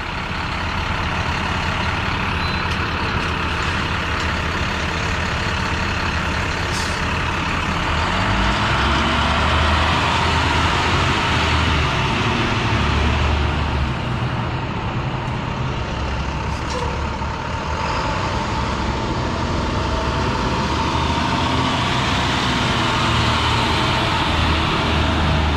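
School buses pull into Harborfields High School, their diesel engines rumbling loudly and continuously up close, with hissing air brakes and a faint reversing beep now and then over steady traffic noise.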